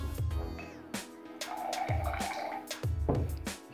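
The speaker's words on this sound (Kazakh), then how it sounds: "Осылай құямыз. Содалы су." Soda water poured from a bottle into a glass, a bubbling liquid stream with drips and splashes in several short pours, close and fairly clear.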